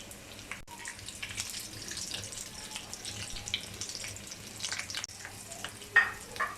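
Potato-stuffed sandwiches fry in a pan until golden on both sides, giving a soft, continuous sizzle with faint scraping and a small clatter near the end.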